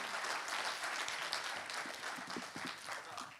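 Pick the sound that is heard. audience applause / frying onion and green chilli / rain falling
audience applause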